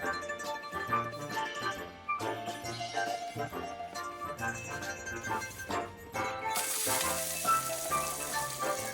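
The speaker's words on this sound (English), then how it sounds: "I had the skillet over medium heat, and I had 1 tablespoon of olive oil to the skillet just prior to adding our medley of vegetables." A medley of chopped vegetables sautés in a tablespoon of olive oil in a skillet over medium heat, giving a steady close sizzle with stirring scrapes and light clinks, growing into a louder hiss near the end.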